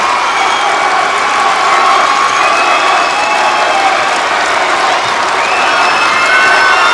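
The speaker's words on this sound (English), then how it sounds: "The crowd's going crazy" A crowd cheers and shouts at a girls' high school basketball championship game, a loud, dense and continuous roar with applause mixed in.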